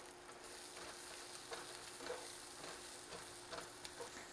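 Minced garlic and onions fry in a stainless steel skillet with a quiet, steady sizzle and occasional soft scraping stirs, alone without talk.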